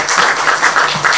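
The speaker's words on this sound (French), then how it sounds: "On peut l'applaudir, s'il vous plaît." Steady applause from an audience at a tennis tournament event in Eyguières, France, a continuous wash of many hands clapping at an even level throughout.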